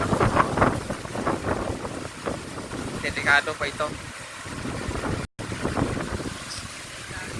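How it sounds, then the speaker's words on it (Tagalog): Gusty wind buffets the microphone in rough, roaring bursts while someone talks over it outdoors. "So ganyan malakas ang hangin."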